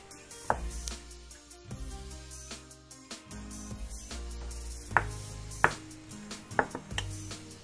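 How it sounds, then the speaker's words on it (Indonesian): A knife cuts fresh mushrooms on a cutting board, slicing them diagonally for a stir-fry with basil. The chopping comes as irregular, close knocks, with several sharper, louder strikes. "untuk jamurnya kita potong"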